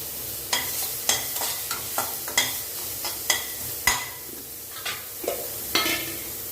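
Ingredients for pear rice sauté in a pan, a utensil scraping and tossing them in a steady rhythm of sharp strokes over a constant low sizzle, heard up close with no voices.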